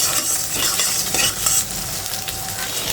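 An egg fries in a pan for chichinga (snake gourd) fry, a dense, loud, continuous sizzle with faint stirring scrapes throughout.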